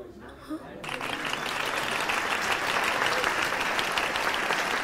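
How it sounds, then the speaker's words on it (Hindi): Loud, sustained audience applause erupts after a brief quiet moment and continues steadily as a dense wash of clapping at a Hindi-dubbed film event, filling the scene without pause. "आज के दिन की सबसे बेहतरीन जोड़ी इनके लिए जोरदार तालियां"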